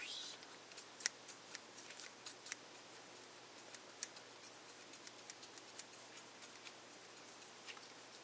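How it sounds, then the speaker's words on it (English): Scissors snipping in a garage: a quick series of crisp, sharp cuts at an irregular rhythm, quiet and very close against near silence. "Scissors."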